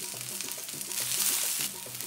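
Onions fry in a pan of hot coconut oil with a bright, steady close sizzle and faint irregular stirring clicks underneath.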